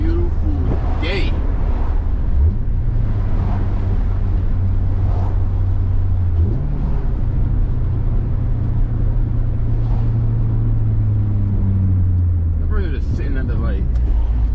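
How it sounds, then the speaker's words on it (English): A Honda Civic Si engine idling while warming up outdoors, a steady low rumble with a couple of brief rising swells, joined now and then by a voice and gusts of wind noise. "So I'm gonna let the car warm up before I even hit VTEC."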